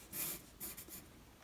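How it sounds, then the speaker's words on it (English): A pencil sketches on paper while a hand is being drawn, giving a few quick, soft scratchy strokes close by with short pauses between them. "we can start by simply just sketching out a square based kind of on the angles that we see"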